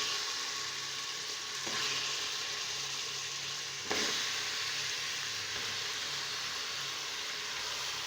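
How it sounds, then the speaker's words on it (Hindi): Mutton pieces fry with ginger garlic paste in a pressure cooker, giving a steady, dense sizzle with two brief stirring clatters, close and without talk. "गोश्त डाल के अब हम अच्छे से इसको भूनेंगे ताकि गोश्त की स्मेल ख़त्म हो जाए"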